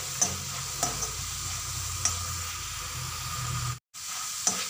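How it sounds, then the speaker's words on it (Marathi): Potato pieces sizzle as they fry in a kadhai for batata poha, with a spatula stirring and scraping in short strokes over the steady hiss of oil, close by and fairly quiet. "इथे पाहू शकता बटाटा छान फ्राय होत आलेला आहे।"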